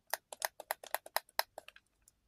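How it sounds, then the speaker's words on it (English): The top switch of a Quickshot II joystick clicks in a rapid run of about fifteen sharp, close taps that thin out and fade toward the end. "you can hear the top switch clicking"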